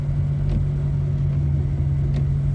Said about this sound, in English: Sorry if y'all can hear the air in the background.